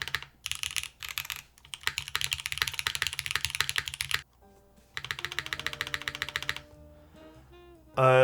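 Fast typing on a custom mechanical keyboard, close and crisp, with dense bursts of keystroke clacks separated by short pauses and a heavier key press at the end.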